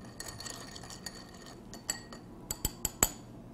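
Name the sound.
stirring a Dublin cocktail with ice in a mixing glass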